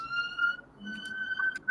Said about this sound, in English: Oh, I can hear some sirens.